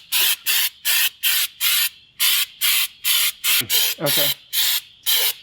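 Short bursts of spray paint hiss in a steady rhythm, about a dozen quick blasts close by, with a brief spoken word between them.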